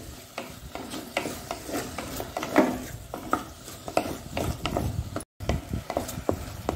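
Prawn bimbuli gravy being stirred in a pan, with repeated scraping strokes of a spoon against the metal under a soft sizzle, close and moderately loud, with a brief dropout near the end.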